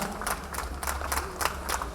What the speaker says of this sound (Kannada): ಖುಷಿಯಾದ ವಿಚಾರ, ಚಪ್ಪಾಳೆ ಹೊಡಿಬೇಕು